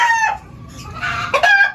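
A rooster clucks and squawks loudly up close, a few short calls with a brief pause between.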